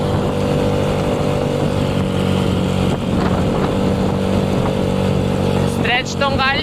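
A Yamaha Mio i 125 scooter with a big-valve setup rides over rough, uneven concrete, its engine giving a steady loud drone with rattling vibration throughout and a brief voice near the end.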